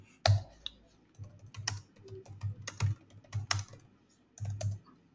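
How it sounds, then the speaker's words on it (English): Keys clatter on a computer keyboard as a letter is typed, quick uneven bursts of soft clicks close by and fairly quiet, with short pauses between runs. "So maybe I start typing a letter"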